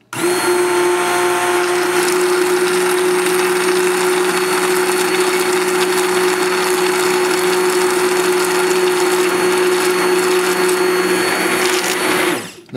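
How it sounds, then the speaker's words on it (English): An immersion blender whirs steadily in a pot, pureeing carrot and cumin soup for nearly thirteen seconds, a loud continuous motor whine with a churning wash of liquid that cuts off sharply at the end. "Now if you don't have this immersion tool, you can use a blender"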